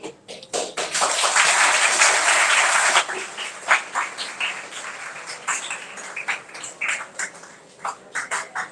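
Audience at a multidisciplinary academic conference clapping after a presentation, a short burst of full applause for a couple of seconds, then thinning into scattered, uneven individual claps and taps.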